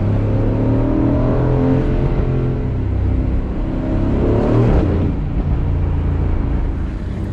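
An Aston Martin Vantage Roadster engine pulls hard under acceleration, a loud, close rumbling growl whose pitch climbs steadily, dips at a gear change, then climbs again with no talk.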